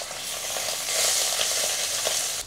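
Fish frying in hot oil, a dense continuous sizzle close and fairly loud that swells slightly midway and cuts off abruptly near the end, with no talking.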